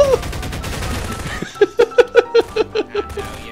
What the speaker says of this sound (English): where'd you get the pulse rifle from?